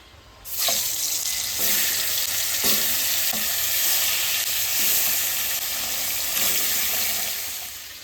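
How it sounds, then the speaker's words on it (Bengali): Fish pieces go into hot oil with a sudden loud sizzle that settles into continuous, bubbling frying, with a few soft stirring knocks and no talking. "তেল গরম হয়ে গেছে এবার আমি মাছটা ভেজে নেবো"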